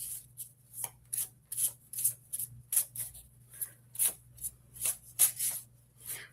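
Hand-painted tarot cards are shuffled close by in quick, papery riffles and rubs, about a dozen soft bursts in an irregular rhythm, quiet and alone with no voices.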